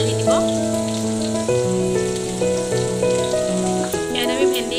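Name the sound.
onions and green chillies frying in hot oil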